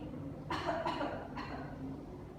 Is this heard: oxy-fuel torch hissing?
no